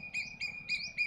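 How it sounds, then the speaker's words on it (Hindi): A bird of unknown species calls on a hot day at a rural free-range poultry farm, giving four short, evenly spaced chirps, faint and alone. "ये पक्षी बोल रहा है, पता नहीं कौन सा।"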